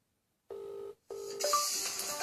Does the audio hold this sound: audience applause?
no